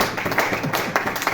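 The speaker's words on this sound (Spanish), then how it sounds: "Da un aplauso al Señor" A church congregation claps together in a dense, steady patter of many hands, fairly close and continuous throughout the short stretch.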